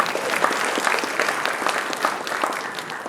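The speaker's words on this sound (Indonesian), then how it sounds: "Jadi ini tepuk tangan." An audience at a government infrastructure event breaks into steady applause, a moderately loud wash of many hands clapping that continues evenly without speech over it.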